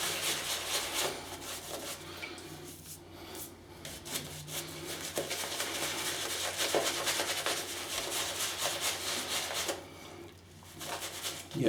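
Continuous scratchy rubbing and swirling, a shaving brush worked back and forth against shaving soap in a steady, close, fairly quiet rhythm without speech.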